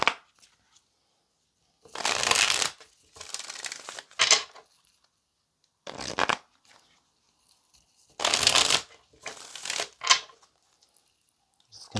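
Tarot cards are shuffled by hand in several separate bursts of crisp riffling and flicking, each lasting about a second, with quiet pauses between them and no talk.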